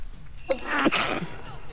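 One sneeze bursts out at close range against a quiet room, followed by a brief breathy trailing sound, with no talking.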